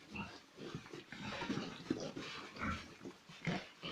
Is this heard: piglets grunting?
yes